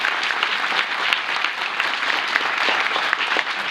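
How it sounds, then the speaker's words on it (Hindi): Audience applause for dignitaries on the dais at a literary festival panel, a dense, steady wash of clapping from a large hall that holds evenly throughout. "Let's give a big hand to all the dignitaries on the dais."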